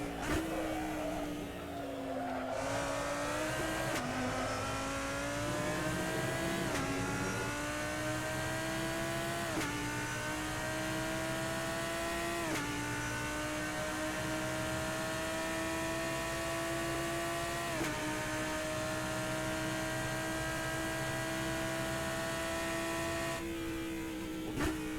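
Lamborghini Huracan GT3 Evo lapping Fuji in the Assetto Corsa racing game, a loud continuous engine note rising through the gears with sharp drops at each upshift, ending in a long sustained high pull down the straight.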